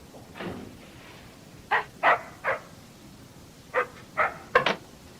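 A dog barks in two bursts of three sharp, mid-pitched barks each, fairly close and alone against a quiet room background, after a faint earlier yelp.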